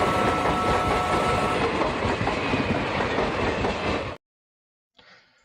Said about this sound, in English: let's get back on the train.